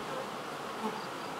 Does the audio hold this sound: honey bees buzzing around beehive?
yes